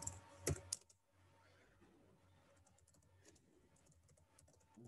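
Typing on a computer keyboard, with a quick burst of loud clicks near the start and then lighter, scattered keystrokes over a quiet background, close up with no talking.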